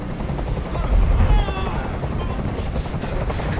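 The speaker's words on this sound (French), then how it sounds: "Je peux plus supporter ce bruit! Fais dégager cet hélicoptère, maintenant!" A helicopter in Detroit: Become Human, during a hostage scene, throbs as a continuous loud rotor wash, swelling briefly near the middle, mixed with distant game sounds and voices.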